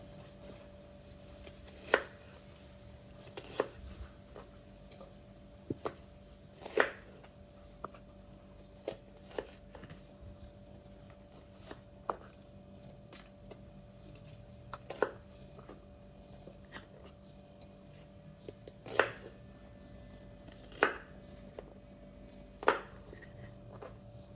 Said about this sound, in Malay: Okay, sekarang saya akan hiris bawang merah ni.